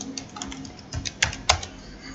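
Rapid typing on a computer keyboard, a short burst of crisp key clicks at an uneven rhythm, close and clear with a few louder taps near the end.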